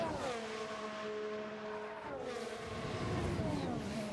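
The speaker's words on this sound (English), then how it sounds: "The sound of that engine." A Formula 1 car engine from the F1 Manager 22 racing game, an Aston Martin revving high and shifting through gears with rising and falling whine, steady and close, with no talk.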